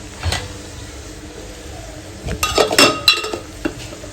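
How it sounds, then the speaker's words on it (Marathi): Potatoes being mashed in a pan with a metal utensil, heard as scattered clinks and scrapes that cluster into a brief louder burst of knocking against the pan near the end. "मला कुस्करलेले बटाटे आवडतात तर त्याला थोडं मॅश करते"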